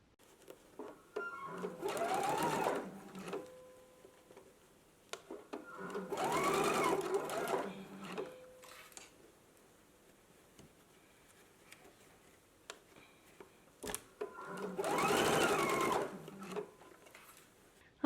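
A sewing machine stitches a 5/8 inch sleeve hem in three distinct bursts of rapid, close whirring, separated by quieter pauses with faint handling clicks.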